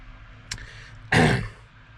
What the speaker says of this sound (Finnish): vähän sille rykäsyttää